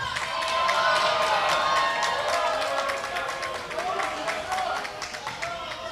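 Loud crowd cheering and shouting at a live show, with dense overlapping voices and whoops sustained throughout.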